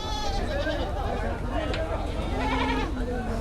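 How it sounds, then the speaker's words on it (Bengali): Several goats bleat in wavering cries at a crowded goat market, heard under and between constant nearby talk and chatter. "এদিকে আমরা দেখতে পাচ্ছি অনেকগুলা ছাগল নিয়ে আসছে।"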